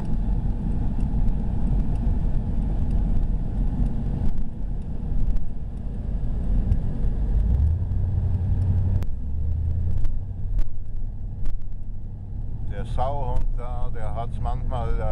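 Steady car engine and road rumble from inside a vehicle on a highway, loud and continuous, with a lower engine tone rising partway through as it accelerates, and a voice briefly heard near the end.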